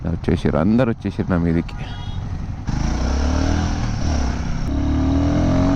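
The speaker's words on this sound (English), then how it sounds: "when you're riding at, let's say, second gear 17 kilometers per hour, and when you throttle it out like totally" A Royal Enfield Guerrilla 450 motorcycle at full throttle in second gear from about 17 km/h: a loud, close engine roar whose pitch climbs steadily, with a voice talking just before it.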